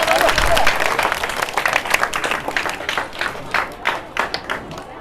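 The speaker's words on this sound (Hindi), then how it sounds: "ताली हो जाए, जोरदार ताली हो जाए।" An audience at an Islamic quiz competition claps loudly, starting as a dense burst of applause that thins into scattered, separate claps and fades toward the end.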